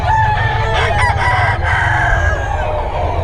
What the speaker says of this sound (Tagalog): Nakita ang ganda ng ano, manok ni Boss Rod, oh.